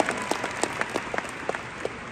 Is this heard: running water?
no